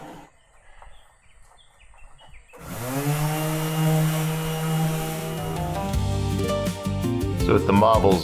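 A power sander with 120 grit sandpaper works over a wooden desk inside a Japanese farmhouse: quiet room tone first, then a loud, close, buzzing motor drone with rough scraping that swells and wavers as it moves.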